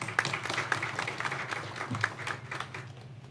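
A crowd applauding steadily, a dense patter of many hands clapping at moderate volume with no voices standing out.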